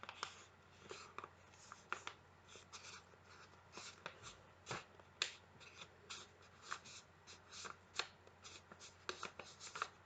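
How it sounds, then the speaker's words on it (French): Paper being folded and creased by hand while making an origami rabbit: faint, close rustles, rubs and sharp little crinkles in an irregular rhythm over quiet room noise. "vous allez marquer un pli"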